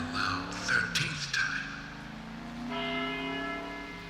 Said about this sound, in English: After the 12th time, the bell did not stop ringing.